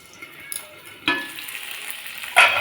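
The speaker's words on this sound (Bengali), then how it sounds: "আমি আলুগুলো চাপা দিয়ে দিয়ে ভেজে নেব" Potatoes fry in a covered pan for a Bengali cauliflower-and-potato curry with paneer: a soft, steady sizzle with two louder bursts of crackle near the start and end, and no talking.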